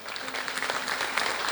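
A church congregation applauds in a sustained burst of dense, close clapping that fills the whole moment without a break.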